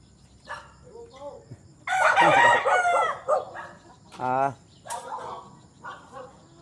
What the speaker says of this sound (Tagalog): Bakit may manok?